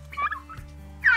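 Two-month-old turkeys give short, faint gobbling calls in quick bursts, close by, on a village farmyard.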